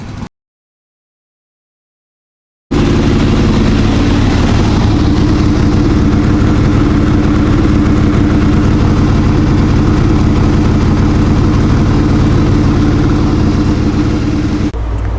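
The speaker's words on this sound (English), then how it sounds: "let this thing sit here and run at a high idle" A Harley Ironhead Sportster with a Cycle Electric generator runs at high idle after a brief silence: a loud, steady, close-up engine rumble that holds evenly until it cuts off at the very end.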